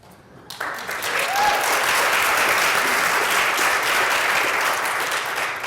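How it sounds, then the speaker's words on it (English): Steady audience applause at a plenary gathering: dense, sustained clapping from a large crowd that swells quickly after a quiet start and holds loud and even for several seconds. "You've applauded in advance."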